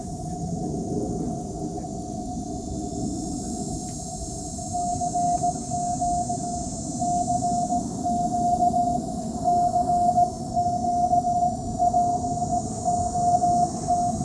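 A CQ call arrives over amateur radio as a steady keyed Morse tone, dots and dashes pulsing through hiss and static, with no voices.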